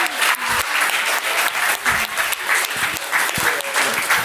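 Audience at a live conference show applauding as performers leave the stage, loud close clapping in a continuous burst with rhythmic pulses and a voice briefly under it.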